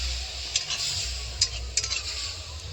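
Wet turmeric and chili powder masala loosened with water sizzles steadily in a pan while a spoon stirs it, with a few sharp scrapes and clicks against the metal.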